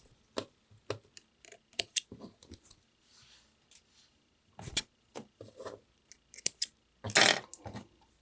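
Scissors trimming threads after machine stitching on a double welt pocket, a series of crisp close snips in irregular rhythm with short pauses and a louder cluster of cuts toward the end.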